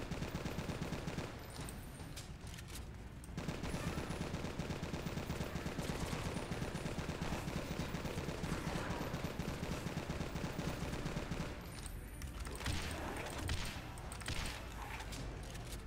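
Sustained machine gun fire from the Left to Survive video game, a continuous dense stream of rapid shots with brief pauses, against zombie and spider enemies, loud and steady with no voices.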